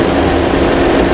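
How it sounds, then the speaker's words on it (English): A Volkswagen Atlas 3.6-liter VR6 engine idling under an open hood, heard as a steady, close, even hum that holds at constant loudness with no voices over it. "It's got that little ticking sound that Volkswagens make."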